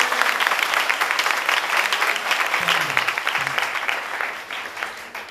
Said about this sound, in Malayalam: ഒരു കയ്യടി കൊടുക്കാൻ പറ്റും?